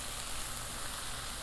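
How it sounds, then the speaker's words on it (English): Turkey burger patties sizzle in a pan over medium heat, a steady, dense crackling hiss that fills the short stretch without a break and with no voices. "These guys are just sizzling away."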